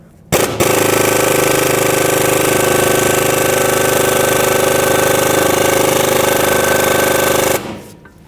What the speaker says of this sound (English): So I'm going to sneak my 11mm socket in here. Now let's remove this bolt.